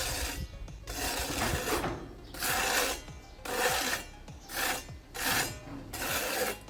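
A steel spatula shapes decorative travertine plaster in varied directions, giving close, rasping scrapes in a steady rhythm of about six drawn-out strokes with short pauses between them.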